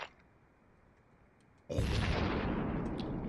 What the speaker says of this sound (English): we got the actual DayZ grenade explosion sound, or the generic explosion sound